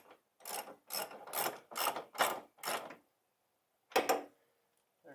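A hand ratchet snugs the front coilover bolts on a Mazda Miata, giving six quick clicking bursts, a pause, then one more burst, close and loud against silence.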